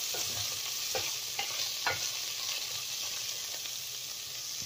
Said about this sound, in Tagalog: Sinasangkot ko na po natin yung ating chicken.